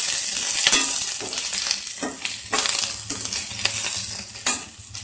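Half a spoon of cumin seeds sizzling in a pan, loud and close, with a spoon scraping through them in repeated rhythmic strokes and a sharper clack near the end.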